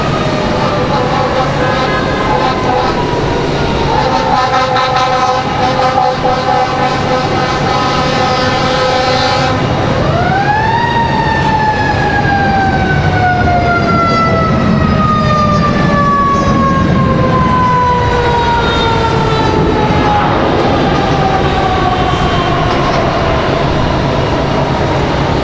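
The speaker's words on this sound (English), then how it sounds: "right, United touching down." A United Airlines airliner lands at Raleigh-Durham International Airport, its loud jet roar carrying a falling engine whine that sweeps down steadily as the plane passes close by and rolls out.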